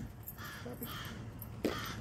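A crow caws outdoors, one or two short harsh calls, faint and distant over a steady background hum.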